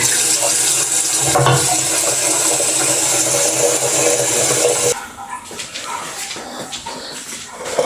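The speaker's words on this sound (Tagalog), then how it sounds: "Hugasan natin. Babad mo na rin sa tubig." Running water splashes loudly into a container while rice is washed, for about five seconds, then stops, leaving quieter rustling and small clinks.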